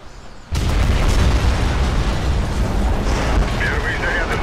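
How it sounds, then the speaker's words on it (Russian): Demolition charges blow up in the video game Warface as a sudden massive blast that turns into a long, dense rumbling roar of collapse, loud and sustained, with faint voices or radio chatter barely audible beneath. "Первые заряды взорвались."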